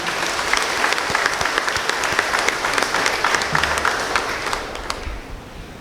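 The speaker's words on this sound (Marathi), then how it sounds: "सर्वांनी जोरदार टाळ्या मारून त्यांचे स्वागत करूया" A church congregation gives sustained, dense applause to welcome a visiting priest, the clapping steady and loud throughout before thinning slightly near the end.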